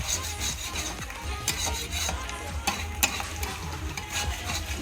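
Five kilograms of mutton frying and being stirred in a pot on a clay stove, a steady close sizzle with repeated scraping strokes of a spoon and a low hum underneath, no talking.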